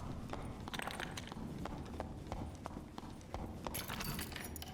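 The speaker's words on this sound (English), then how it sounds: "I believe I hear some footsteps right now." Footsteps in the dark fantasy dungeon game Dark and Darker, a steady run of close, hard clip-clop impacts repeating over a dense ambient bed, with no talking.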